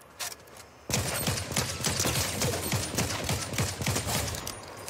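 Rapid gunfire from the video game Fortnite crackles after a brief quiet start, a fast rhythmic burst of sharp shots repeating closely together for several seconds.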